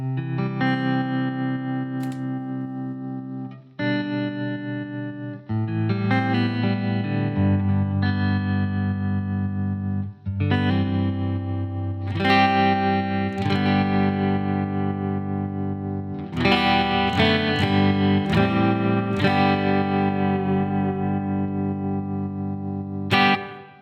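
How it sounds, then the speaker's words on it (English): An electric guitar plays sustained chords and notes through a tremolo effect pedal, with a pulsing, wavering tremolo, clean and close with no talking. "Then, of course, a little tremolo is nice."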